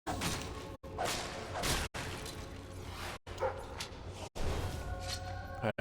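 A dog barks repeatedly in Fable 3, in bursts of loud, close woofs split by short silences, joined now and then by thuds and swishes from the game.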